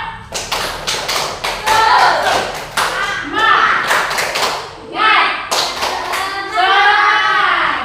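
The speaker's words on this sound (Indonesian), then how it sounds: "Tepuk semangat, ayo." A group of children claps a rhythmic spirit-clapping routine in a classroom, with bursts of sharp, patterned claps over chanting and shouted voices.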